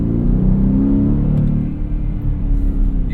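A Ford F-150 Raptor R truck engine revs hard under throttle, a loud, deep rumbling roar that holds steady, then dips and surges again in short bursts.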